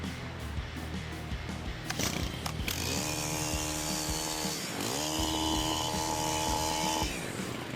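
A STIHL HT 103 gas pole saw engine runs up to a steady, buzzing high speed, dips briefly, then revs back up and holds before cutting off.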